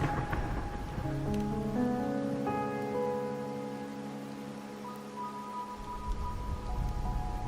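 Steady rain patters across the surface in the rainy city of Raguna in the video game Wuthering Waves, a soft continuous hiss under sustained musical tones.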